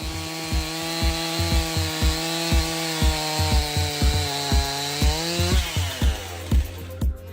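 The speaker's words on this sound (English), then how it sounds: "This is maple, a fairly difficult wood to cut, and he's using a Stihl MS-261 high-speed saw" A Stihl MS-261 chainsaw cuts through maple wood in a cutting competition, its engine humming steadily with a rhythmic series of loud, evenly spaced chopping thumps, close and alone without talking.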